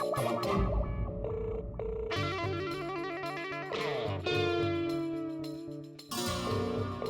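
An electronic phone ringtone plays in a bright, tinny melody with repeating tones, sounding slightly distorted as if through a speaker.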